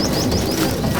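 Racing pigeons in a loft at Hooghly cooing and calling softly, a steady low murmur of several birds with a few brief chirps over it, continuous through the moment, with no speech.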